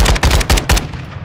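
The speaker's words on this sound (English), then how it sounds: "Enemy fire." Loud, close bursts of enemy automatic fire in Call of Duty: Modern Warfare 2, four rapid heavy shots in a tight rhythm followed by a fading echo.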